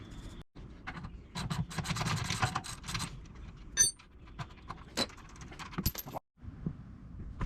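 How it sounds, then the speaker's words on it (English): A 13 mm wrench works an exhaust bolt loose on a 2021 Can-Am Outlander XMR 850 ATV, giving close, quiet metallic ratcheting, clinks and jingles in irregular bursts with brief pauses. "Again, 13-inch wrench on the back side,"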